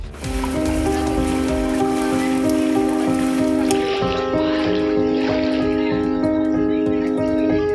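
Heavy rain pouring during Cyclone Fengal in Tamil Nadu, a steady, loud wash of falling water lasting throughout under a layer of sustained tonal background sound.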